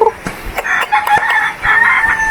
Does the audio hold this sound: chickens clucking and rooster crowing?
yes